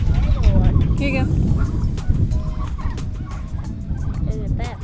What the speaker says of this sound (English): These meat turkeys are getting older.